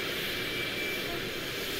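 A fixed-wing airplane passes overhead in the truck-driving game Euro Truck Simulator 2, its engine a steady, broad roar held evenly throughout under a faint high whine.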